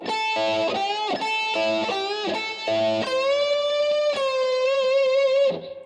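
Electric guitar playing a blues lick, with repeated string bends pushed up in pitch and then slowly released, clean sustained notes ringing with a gentle wavering pitch toward the end, played alone.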